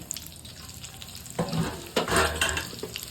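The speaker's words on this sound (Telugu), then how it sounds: "ఇప్పుడు ఈ రెండింటిని కలిపి ఇంకొకసారి వేయించుకుందాం." Soya chunks stirred and fried a second time in a pan until crispy, a steady sizzle broken by louder scraping bursts of stirring toward the end, with no talking.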